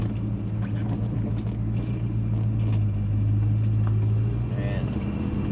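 A 1962 Pontiac Grand Prix with a Tri-Power engine and 4-speed runs with a steady, low rumbling drone throughout, close by, with people talking over it.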